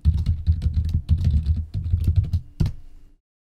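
Someone types a password on a computer keyboard at a server setup: rapid bursts of crisp, close key clicks in an uneven rhythm, ending with one firmer keystroke before silence.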